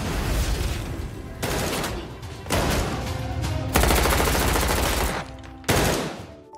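Gunfire in a shootout between gang members and their target in a film, with loud dense bursts of rapid shots in several waves separated by brief pauses.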